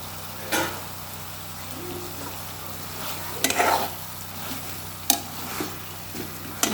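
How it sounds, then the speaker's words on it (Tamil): Fried tofu tossed in soy sauce in a kadai: a low background sizzle with a few sharp spatula scrapes and stirs spaced several seconds apart, close and moderately loud, no talking. "நல்லா மிக்ஸ் பண்ணி விட்டுட்டோன்னா"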